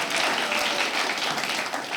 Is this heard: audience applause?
yes